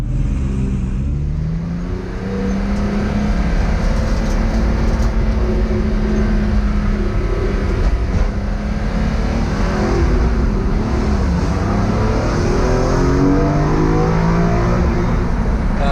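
A BMW E46 M3 race car engine drones steadily in fourth gear at moderate revs, a loud continuous in-car hum with no speech.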